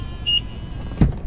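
A 2016 BMW M3 with M Sport trim, its front door lock worked by a touch-sensor ridge on the handle: a brief electronic tone, then a single short, dull thunk of the lock mechanism, close by.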